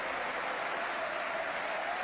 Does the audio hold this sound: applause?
yes